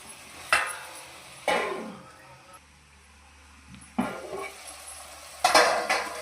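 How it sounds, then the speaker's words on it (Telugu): Chopped tomato pieces are tipped into a cooking pan and stirred, giving sharp metallic clanks and scraping bursts of a utensil against the pan, spaced apart with quieter pauses between. "ఇప్పుడు ఇందులో టమాటాలు వేసేసుకుందాం రెండు టమాటాలు ముక్కలుగా కోసి పెట్టుకొని వేసుకుంటున్నాం మగ్గించుకుందాం"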